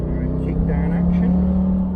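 A Jaguar XK8 kicks down under hard acceleration, a deep steady engine drone with a rising tone heard loudly from inside the car, with a voice speaking over it.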